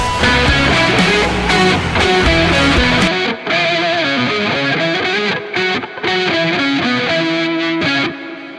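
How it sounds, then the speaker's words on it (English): Distorted electric guitar plays a chunky riff with a deep octave-down layer thickening each note, loud and driving, with brief gaps between phrases. "we're going to turn on this octave pedal and we're going to allow this to have an octave lower setting"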